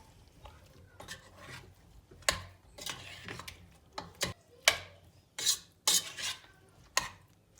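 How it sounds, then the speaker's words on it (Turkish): A spoon stirs boiled cauliflower into a sauce in a pan, giving irregular scraping and clinking strokes with sharp utensil taps against the pot, close and fairly loud, with no talking. "Bir güzel her hepsinin sosa bulanmasını sağlıyorum. Güzelce karıştırıyorum."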